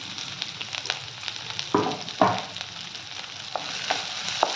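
Carrot pieces frying in a pan of oil for Maharashtra-style poha, with a steady sizzle and a few louder stirring scrapes as they are turned, close up and with no talking.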